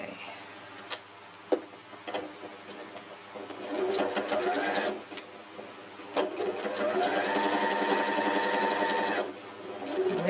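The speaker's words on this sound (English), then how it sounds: "you're just going to top stitch this little bit just to secure it." A sewing machine top stitches a fabric pot holder, its needle running in bursts of rapid, steady ticking with short pauses between runs, close and clear.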